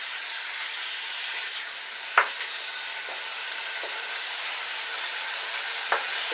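Honey lime chicken sizzles steadily in a pan under a constant hiss, with two sharp clicks of a stirring utensil against the pan.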